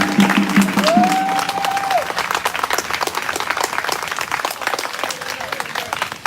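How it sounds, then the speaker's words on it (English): A crowd at a peaceful protest gives sustained, dense applause up close, with a short voice rising over the clapping near the start. "Go ahead and give him another round of applause."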